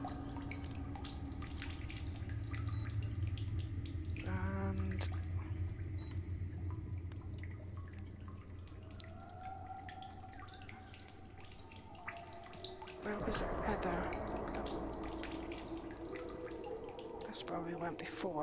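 Water drips and trickles in a cave in The Solus Project, with a few distinct drips and a running stream under steady ambient tones. A louder splashing wash comes in near the end, and a voice talks over it.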